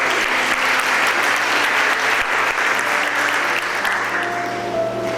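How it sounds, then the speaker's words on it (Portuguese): A church congregation applauds during a service, producing a full, continuous roar of clapping that holds steady and loud for several seconds, with a faint tone rising near the end. "Você pode aplaudir o Senhor?"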